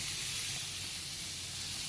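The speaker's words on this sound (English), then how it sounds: "That's the sound you guys have waited all winter to hear. Is that beautiful sizzle coming from my grill." Steaks sizzle on a grill with a steady, even hiss and crackle, loud and close, with no voices over it.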